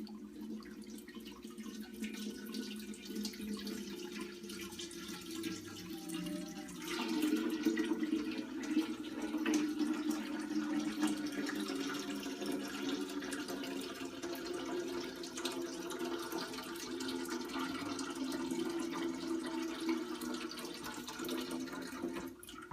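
Homebrew wort is poured from a pot back over the grains to recirculate, giving a long continuous splash and trickle of liquid that grows fuller partway through and stays steady and close, with no talking.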